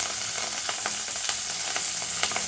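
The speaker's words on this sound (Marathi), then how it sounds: "कढीपत्ताही चांगला कडसून घ्यायचा" Curry leaves and green chillies sizzle hard in hot oil for a raw papaya chutney, a loud, continuous close-up crackle with small pops throughout and no talking.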